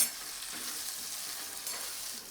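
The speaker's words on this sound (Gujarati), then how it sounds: "મસાલો પણ તુરિયા સાથે એકદમ સરસ સાંતળી લેશું" Spiced masala sizzles and fries steadily with chopped ridge gourd in oil in a kadai, a continuous hiss with slight stirring scrapes and no talking.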